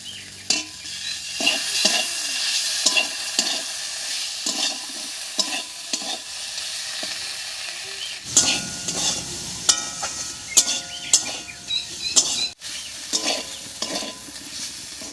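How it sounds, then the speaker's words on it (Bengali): A spoon scrapes and stirs vegetables with ground cumin paste in a pan with repeated strokes over a steady frying sizzle. "জিরে বাটা দিয়ে একটু নাড়িয়ে নিয়েছি"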